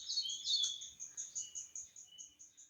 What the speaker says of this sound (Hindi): चिड़ियों की आवाज़, कोयल